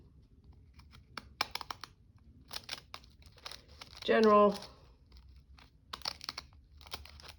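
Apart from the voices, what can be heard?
decal scissors cutting paper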